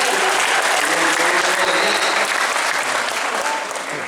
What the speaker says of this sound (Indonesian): Tepuk tangan untuk bukti.